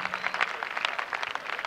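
Scattered audience clapping at a youth talk, a brief burst of moderate applause that carries on steadily without any voices over it.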